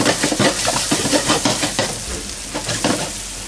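Ginger, garlic and Espelette pepper butter sizzle in a wok, a loud crackling fry broken by quick rhythmic stirring scrapes over a few seconds.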